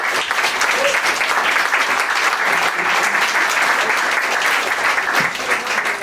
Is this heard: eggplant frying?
no